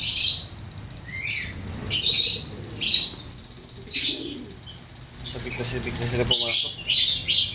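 Pet pigeons and African lovebirds call in a backyard loft, with repeated shrill lovebird squawks and chirps in bursts over low pigeon coos, close and fairly loud, while someone speaks briefly over them.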